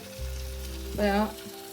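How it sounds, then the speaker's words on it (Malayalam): A burst of bubbling sizzle as water hits a hot pan, swelling briefly over a steady low hum, then settling. "കഴുകിയ വെള്ളവും കൂടെ അങ്ങോട്ട് ഒഴിച്ചു"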